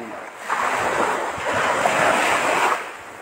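Sea waves washing onto a beach in Balud, Masbate at high tide, with a steady roar of surf rising and holding over a few seconds, and wind buffeting the microphone throughout.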